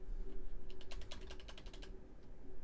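Quick burst of typing on a computer keyboard, a rapid run of about a dozen crisp clicks close to the microphone over a low steady hum, with no talking.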